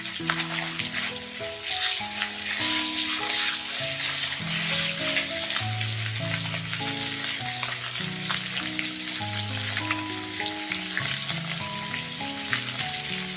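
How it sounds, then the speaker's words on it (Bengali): A spice paste of cumin paste, chilli paste, salt, turmeric and a splash of water is sautéed in a pan, sizzling steadily with bursts of stirring, as gentle background music plays beneath. "একটু জল দিয়ে দিলাম মশলা কষানোর জন্য"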